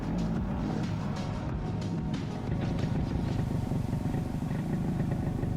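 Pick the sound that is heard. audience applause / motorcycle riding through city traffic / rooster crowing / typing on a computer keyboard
motorcycle riding through city traffic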